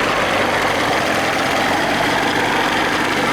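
A Johnson 40 hp outboard motor idles steadily, giving off a loud, continuous rumbling drone with no talk over it.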